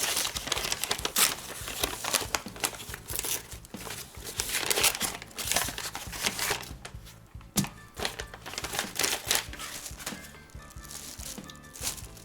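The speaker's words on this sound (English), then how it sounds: "Undo the brown paper." Brown paper wrapping on a fountain pen package is undone and pulled away, giving steady close crinkling and tearing with several louder rustling bursts and a short pause partway through.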